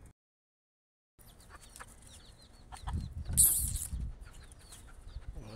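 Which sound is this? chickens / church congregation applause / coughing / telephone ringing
chickens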